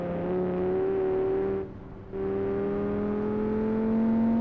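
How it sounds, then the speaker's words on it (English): A tuned Mk6 Volkswagen Jetta with an aftermarket exhaust in the BeamNG Drive game holds a loud, raw, steady engine drone, dipping briefly as if between gears before climbing again. "it's got a more raw sound because it does have the exhaust on it."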